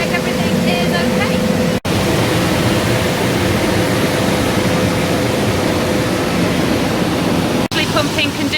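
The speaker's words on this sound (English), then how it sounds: "Actually pumping conditioned air into the aircraft" On an airport ramp in Houston, a ground unit pumps conditioned air into a long-haul airliner with a loud, steady broadband roar and a faint hum, cut by two brief dropouts.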